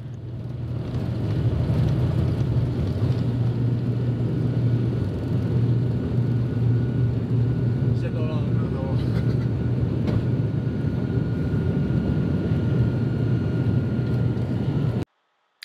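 A small single-engine aircraft runs up to full power on a short runway with brakes held, then rolls for takeoff: a loud, steady droning engine roar with low propeller hum, continuous for about fifteen seconds before cutting off abruptly.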